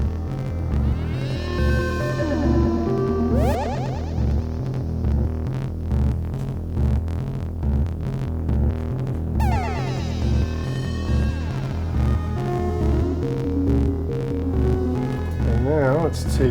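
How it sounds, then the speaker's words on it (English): A synthesizer runs through Famine, a voltage-controlled starvation module, producing a steady, throbbing low pulse under wavering, warbling tones, with sharp glitchy sweeps and bursts breaking in now and then. "let's play with Famine, the voltage-controlled starvation module"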